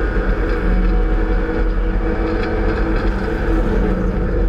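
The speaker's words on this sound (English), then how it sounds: "We go back on board now with number 7 Aaron Morgan as they head along the centre straight past the pit wall to complete the first lap of the race" Onboard a BMW Compact Cup race car at Snetterton, a loud, steady engine drone holds constant as the car runs flat out along the straight past the pit wall, with wind rush and no speech.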